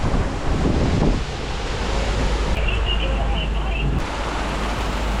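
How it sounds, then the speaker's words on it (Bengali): Heavy rain pours outside at a seaside camp on a beach, a dense, steady wash of noise that fills the whole clip with a constant roar. "বাইরে জোর বৃষ্টি শুরু হয়ে গেছে"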